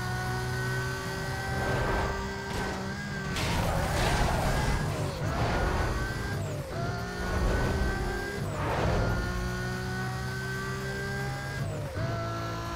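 A racing car in the video game Need for Speed Most Wanted drives at speed: a steady, loud engine drone that rises and drops as gears shift, with tyre and road noise running continuously throughout.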